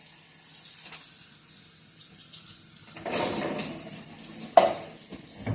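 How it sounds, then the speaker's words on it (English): Tap water runs steadily into a sink as a bag of grapes is rinsed, with a soft watery hiss that swells and splashes louder midway and a brief clunk near the end. "So now we just rinse them off really good."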